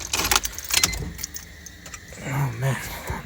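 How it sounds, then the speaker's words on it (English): Keys jangling loudly as they go into the ignition of an EK Honda Civic, followed by the engine cranking and turning over with a low rumbling start, fairly close. "gotta make sure the car was gonna start"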